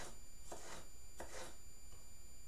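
A knife cuts vegetables for shakshuka, making three crisp slicing strokes at a relaxed pace that land on a board, each with a short rasping swish, against a quiet background.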